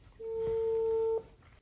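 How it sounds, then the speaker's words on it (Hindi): A video call's ringing tone sounds once as a steady electronic beep lasting about a second, clear and fairly close, followed by quiet. "ये कॉलिंग आ रहा है कि रिंगिंग आ रहा"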